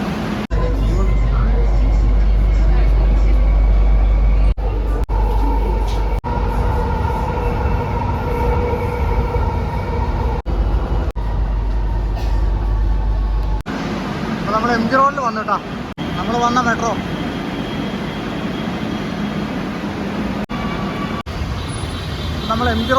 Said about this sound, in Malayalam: ഒരു മെട്രോ ഇവിടെ കിടപ്പുണ്ടേ